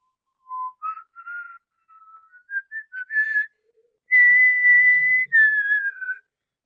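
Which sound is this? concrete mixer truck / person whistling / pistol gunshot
person whistling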